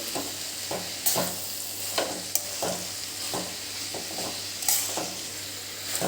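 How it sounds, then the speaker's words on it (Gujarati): Boiled noodles being stirred into a sizzling spring roll filling in a pan, with steady frying hiss and repeated scraping strokes of a utensil against the metal, close and clear with no talking. "મેં આ સો ગ્રામ નૂડલ્સને બાફી લીધી હતી એડ કરીશું આને પણ મિક્સ કરી લેવાનું છે"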